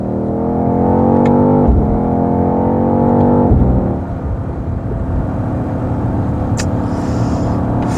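A BMW XM G09 hybrid SUV's engine held in a manual gear at low revs, a rising harmonic drone for a few seconds that drops off, then a lower steady rumble continues alone.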